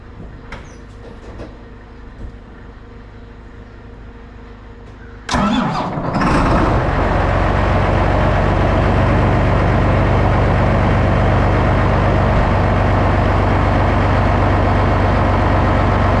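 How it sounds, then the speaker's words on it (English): A John Deere 8300 tractor cranks after a few seconds of faint ambient noise, then fires and settles into a loud, steady diesel idle as it warms up, close by with no talk. "will start that 8300 up and let it warm up."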